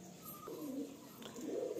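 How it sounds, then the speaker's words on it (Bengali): A Phulshila pigeon coos softly with a few low, throaty notes, faint and close, in a quiet setting among pigeons kept for sale. "এটা ফুলশিলা পায়রা।"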